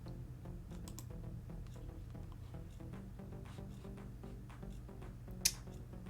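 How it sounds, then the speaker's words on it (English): Steady, faint clatter of typing on a mechanical clicky keyboard, quick irregular keystrokes with one sharper snap near the end. "That's the mechanical clicky clackies."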